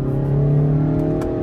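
Car being driven at night, a steady close engine drone with a smooth hum of the drivetrain and a slight rise in pitch, alone with no voices.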